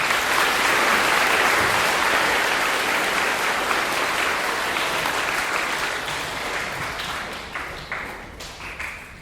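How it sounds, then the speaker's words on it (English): Applause at a school veterans assembly, a full crowd clapping loudly and steadily, then gradually thinning into individual claps toward the end. "Give her one more round of applause."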